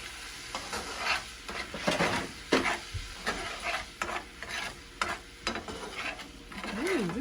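Cajun seasoning and cayenne pepper being stirred into a garlic butter sauce for a seafood boil, repeated scraping strokes over a low sizzle, close and fairly quiet with no speech.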